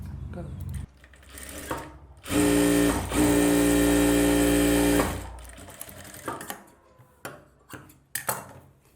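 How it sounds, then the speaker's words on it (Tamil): Sewing machine running one steady, loud burst of stitching on a blouse sleeve hem, folded a quarter inch and roughly sewn, with quieter handling sounds and brief clicks before and after. "ஒரு 1/4 இன்ச்சு மடித்து சும்மா ரப்பாக ஒரு தையல் போடுங்க"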